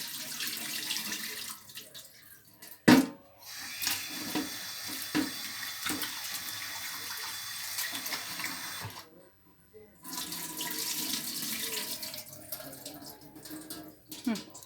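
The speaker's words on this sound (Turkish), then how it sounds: "Bir bardak mercimeğimi yıkıyorum şu anda." Tap water runs into a sink while a cup of lentils is washed, a steady splashing stream broken by a few short pauses, with a knock and a cough-like sound.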